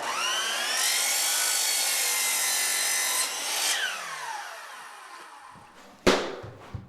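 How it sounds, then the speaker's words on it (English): Compound miter saw cutting baseboard wood: a loud, close whine of the blade biting through the board for about three seconds, then the motor winding down, ending with a sharp clunk. "we'll put it on the compound miter saw, bevel our compound miter, and cut that angle"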